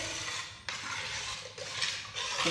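Rice and lentils being mixed together in a pot for homemade khichuri, a steady close scraping and swishing of a spoon through the wet grains, continuous with small bumps.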